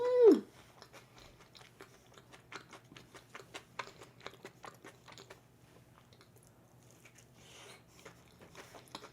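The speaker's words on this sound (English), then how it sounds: "let's try the pizza bread" Close, steady chewing and crunchy bites of pizza bread topped with cheese, sausage, onion and ketchup, with irregular soft crunches and a brief vocal sound at the start, no talking.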